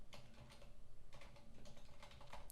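Fingers clatter across a computer keyboard while someone codes in React, quick faint bursts of keystrokes in uneven clusters with short pauses between, close and quiet with no talking.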